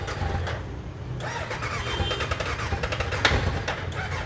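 A motorcycle engine cranks and catches, then settles into a steady, moderately loud idle close by.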